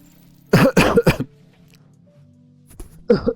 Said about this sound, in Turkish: Ulan mikrofonu kapatıyorum, hala öksürük sesim geliyor.